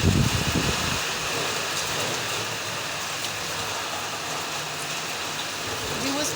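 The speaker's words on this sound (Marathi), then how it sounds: "दिवसभर नव्हता पाऊस, म्हणजे आत्ताच यायला लागलेला आहे." Steady, moderately loud rain falling outdoors in Kolhapur just after it begins, a dense even hiss of drops on surfaces with a brief louder patter at the start and no talk.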